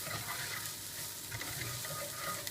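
Browned onion, garlic, cumin and cinnamon sticks being stirred in a stew pot for Greek stifado, a soft low sizzle with faint scraping movement, quiet and close, no talking.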